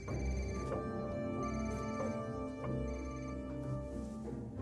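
A telephone rings steadily with a repeating electronic tone, fairly loud and unaccompanied by voices.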